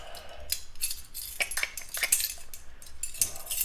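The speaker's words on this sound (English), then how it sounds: "I am going to add 3 tablespoons" Sugar spooned into a bowl of blueberry lemon scone mix along with flour, baking powder and salt: a quiet run of scattered metal spoon clinks and scrapes against the bowl, close by and with no talking.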